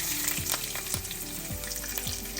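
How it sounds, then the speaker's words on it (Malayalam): Ginger and garlic frying with browned coconut and mustard for a clam meat dish, a loud close sizzle with regular spatula scrapes roughly every half second against the pan. "അതിനകത്തോട്ട് നമുക്ക് ഇഞ്ചിയും വെളുത്തുള്ളിയും കൂടെ ഇടാം."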